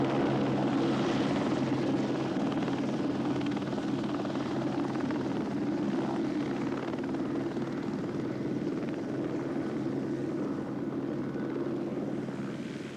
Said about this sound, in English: Flying in a chopper over truly wild country like this